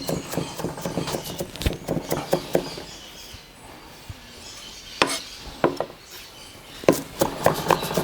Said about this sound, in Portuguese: Vou trazendo pro centro da tábua e vou picando ele.